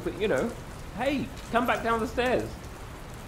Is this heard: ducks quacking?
no